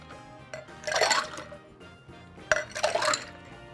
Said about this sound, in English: we're gonna toss this drink back and forth between the pint glasses